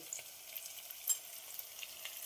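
Spices stirred and sizzling in a pan for masoor masala rice, a faint steady frying hiss with light scraping strokes, no talk.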